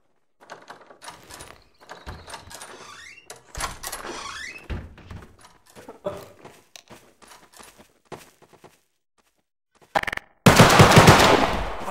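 Gunfire in DarkRP, a Garry's Mod game mode, comes as scattered bursts and thuds with some footsteps-like knocks, then a loud sustained noisy blast at the end.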